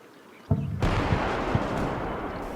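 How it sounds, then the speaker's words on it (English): In the Combat Mission wartime strategy game, a charging tank runs over a mine and blows up: a single loud, booming explosion cracks out after a brief quiet lead-in, followed by a sustained rumbling roar that lingers to the end. "This tank fucking balls out charges and sucks a mine."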